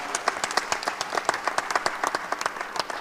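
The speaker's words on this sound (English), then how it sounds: "Give him a round of applause" An audience claps for a volunteer in a large hall, a thin scattering of distinct, uneven claps in quick succession that is fairly close and brief.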